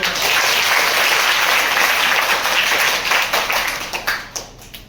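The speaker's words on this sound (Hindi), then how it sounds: "एक बार जोरदार तालियां बच्चों को" Loud, dense audience applause for children at a school poetry gathering, a sustained close wash of clapping that thins slightly toward the end.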